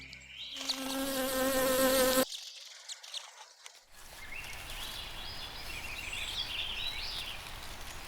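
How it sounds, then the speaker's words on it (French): Honeybees from a hive that forage on flowers buzz in a close, loud drone that cuts off abruptly, followed by a steadier, fainter hum of many bees around the hive. "c'est toutes des abeilles qui vont butiner, en fin de compte, sur les fleurs"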